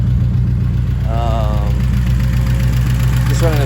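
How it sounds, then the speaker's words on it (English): Loud, steady idle of an Acura RSX Type S with a K24/K20 engine, no-name exhaust and Buddy Club race headers, a low continuous drone throughout with a brief wavering tone over it. "So the exhaust is kind of loud on this thing. It's just a no-name exhaust with some Buddy Club race headers"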